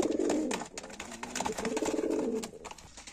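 Chini Kalduma and Madras pigeons coo continuously in a nesting loft, soft rolling throaty calls overlapping close by with faint flutters and scratches behind them.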